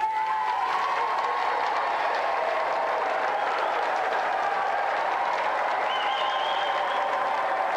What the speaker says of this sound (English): Round of applause for Cathy Dennis.